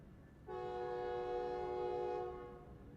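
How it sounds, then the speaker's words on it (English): A train horn in the video game Alan Wake II blares as a sustained, loud, chord-like blast for nearly two seconds. It fades over a rumbling rail background, and no one talks. "These freaking trains, dude."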